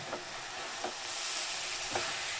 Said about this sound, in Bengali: আমি এগুলোকে নাড়িয়ে চাড়িয়ে মিশিয়ে নেব